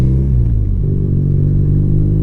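A BMW R NineT motorcycle idles close by at about 1,000 RPM, giving off a loud, steady, deep rumbling throb with a slight uneven pulse.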